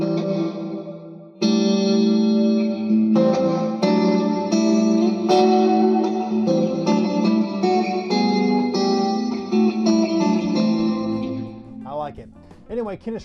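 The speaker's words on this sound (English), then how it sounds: "this hall reverb just really, they nailed it here" An electric guitar played through the hall setting of an Xvive Maxverb reverb pedal rings out in sustained chords and single notes, each one blooming into a long, spacious tail that fades away near the end.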